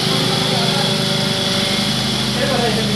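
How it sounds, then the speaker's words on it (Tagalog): A car engine idles smoothly and steadily at close range, a constant even drone with no misfires or knocks, while a person talks over it. "Napaka-smooth pa ng makina."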